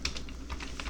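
Someone types a prompt for ChatGPT on a computer keyboard, a quick run of soft, close keystroke clicks with no talking.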